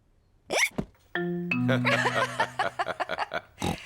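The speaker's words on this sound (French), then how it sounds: "Ça suffit, arrête d'avoir le hoquet." Cartoon pig George from Peppa Pig hiccups in short vocal bursts, followed by a sustained tonal chime and a quick run of rhythmic staccato hiccup-like pops, close and clear.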